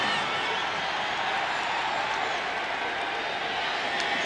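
Home crowd of Seattle Seahawks fans roaring at the opening kickoff of a 1989 NFL game against Phoenix, a steady, dense wash of distant stadium noise without breaks.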